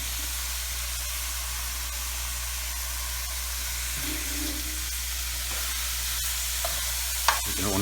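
Garlic sautéing in a hot pan for chicken scarpariello, a steady soft sizzle and hiss with a few faint stirring clicks and a sharper utensil tap near the end.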